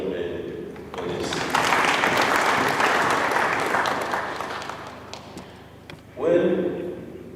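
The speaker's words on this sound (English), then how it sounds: "give a very, very big clap for Mr. John May for this." An indoor audience at a diocesan council launch and commissioning breaks into sustained clapping that swells and then fades, with a second brief burst of applause near the end.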